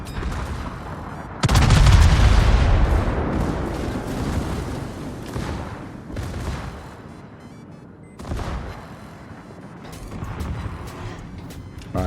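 Warship secondary guns fire in a naval battle game, a heavy burst of booms followed by rolling rumbles and creaking mechanical groans, with further thumps and rattles that come and go.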